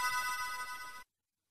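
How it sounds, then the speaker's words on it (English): A telephone rings with a single bright, steady electronic trill lasting about a second, then cuts off abruptly into silence. "Oh, that's my phone."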